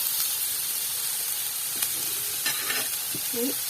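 Finely chopped onions sauté in a pan with a steady, close sizzle and occasional stirring scrapes, no voices.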